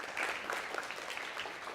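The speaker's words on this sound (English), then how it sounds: "Can we give my fellow candidates a massive round of applause, please, ladies and gentlemen?" An audience at a keynote leadership talk claps for fellow candidates, a short, steady burst of many hands at moderate, slightly distant level.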